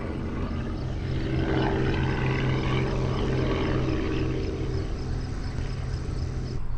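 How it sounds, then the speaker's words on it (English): A crop-spraying helicopter flies over a cornfield, its rotor and engine making a continuous loud drone with a low throbbing hum that holds steady from start to finish. "Helicopter is kind of cool."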